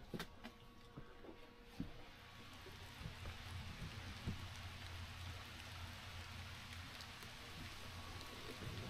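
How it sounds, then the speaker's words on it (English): Steady rain falls continuously at Gifford Pinchot State Park, Pennsylvania, a dense hiss with scattered drops and patters, fairly faint and even throughout with no talking. "Now you can probably really hear the rain starting to kick in."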